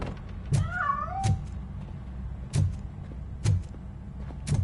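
In the RoboCop: Rogue City video game, a cat gives one short rising meow early on, set against a series of regular dull thumps spaced about a second apart in an otherwise quiet scene.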